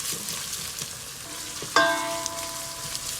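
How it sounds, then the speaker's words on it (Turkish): Tomato paste sizzles as it is sautéed in a pan while cooking green beans, a steady close frying hiss with a sudden brighter sizzle burst partway through and no voices. "Domates salçasını da ilave ettikten sonra güzelce kavuruyorum."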